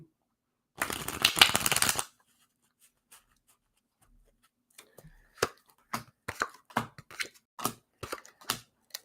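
A deck of cards riffle-shuffled once in a quick burst, then a series of separate crisp snaps and taps as cards are squared and laid down in an otherwise quiet room.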